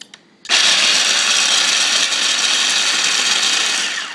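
A kitchen appliance, likely a food processor, runs continuously to finely chop ingredients for cherry bing bars, starting abruptly after a brief quiet moment and holding a loud, steady whirring grind throughout.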